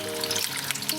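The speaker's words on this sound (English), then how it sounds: "Now the next step is to fry the dough." Rolled sweet potato and mustard greens puri dough sizzling as it fries in hot oil, a steady close crackle throughout.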